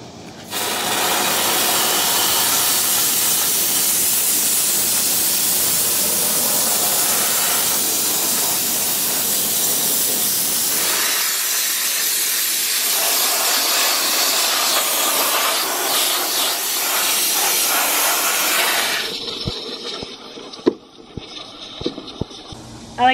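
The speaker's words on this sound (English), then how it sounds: "Here's a steam cleaner." A steam cleaner hisses loudly and continuously while detailing a car engine bay, a close, steady spray that changes tone midway and then cuts off, followed by a few sharp clicks and knocks.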